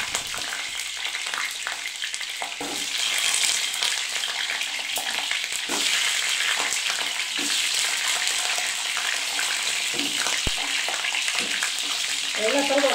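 Gooseberries (nellikka) frying in hot oil for a pickle, a steady close sizzle with occasional stirring clatter and a few faint background voices.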